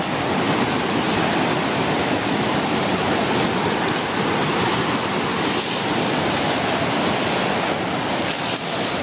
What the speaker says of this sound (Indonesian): Ini aliran sungai Kalituntang, deras sekali